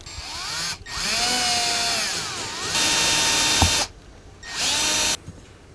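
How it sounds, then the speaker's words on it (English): A power drill whirs in several bursts while driving a screw into a car's oil and coolant fill cover, pitch rising and falling as it speeds up and slows, with brief pauses between runs; close and loud. "So I figured maybe I could fix it with possibly just a drill and a screw."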